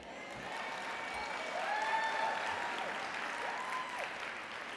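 Audience applause at a women's leadership conference, a moderate wash of clapping from the crowd with faint tonal sounds threading through, steady in level throughout.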